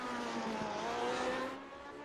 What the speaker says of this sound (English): Love the sound of this Lotus 79 as Valiokis spears to the final